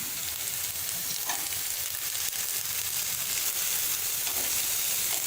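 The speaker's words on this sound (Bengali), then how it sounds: "টমেটোটাকে ভালো করে একটু নেড়ে চেড়ে ভেজে নেব" Chopped tomato, onion and green chili stir-fried in a pan make a loud, continuous sizzle with occasional soft stirring scrapes. No voices are heard.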